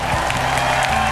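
A studio audience applauds a singer at a Vietnamese music show, a loud, continuous wash of crowd clapping with a steady low hum underneath.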